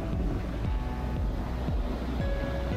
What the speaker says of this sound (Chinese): 哇，这大浪花